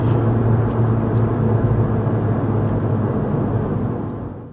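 A VW Golf GTI Clubsport S, front-wheel drive, runs on a race circuit with a loud, steady engine drone and road roar heard from inside, holding constant before easing off at the end.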